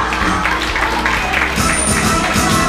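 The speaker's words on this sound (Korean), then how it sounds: "박수 한번 주세요" An audience at a Korean first-birthday party (doljanchi) claps steadily through a dense, noisy room, with crowd chatter mixed in throughout.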